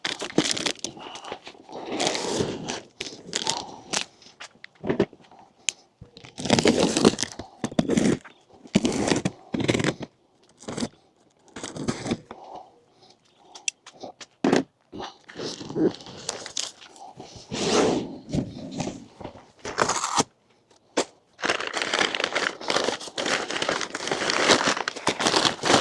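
Plastic shrink wrap is torn and peeled off a boxed camper platform kit for a 2025 Toyota 4Runner, with loud crinkling, crackling bursts and brief pauses, close to the listener.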